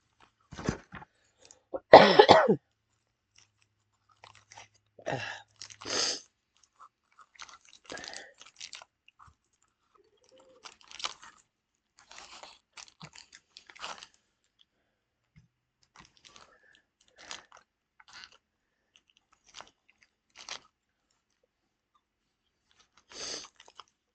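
Crunching on a Trento cookies and cream chocolate bar, white chocolate with crunchy cookie bits, in close, sharp bites and chews scattered irregularly across a quiet room, with a louder cough-like burst early on.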